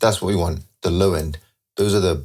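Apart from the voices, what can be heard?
No everyday noises stand out.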